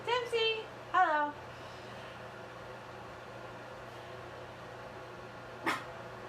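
A small puppy gives a few quick high yips near the start, then falls quiet over a steady low hum, with one brief sharp noise later.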